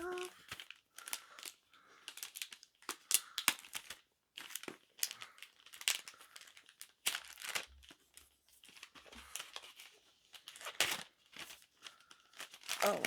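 Tape being peeled and wrapping paper torn off a wrapped gift, close crinkling and tearing bursts in quick irregular bouts, fairly quiet, with a voice speaking briefly between them.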